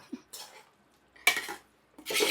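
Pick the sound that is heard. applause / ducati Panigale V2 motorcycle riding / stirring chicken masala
stirring chicken masala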